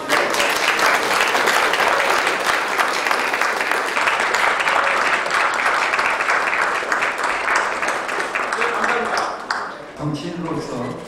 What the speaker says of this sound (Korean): 추가 박수 한번 부탁드립니다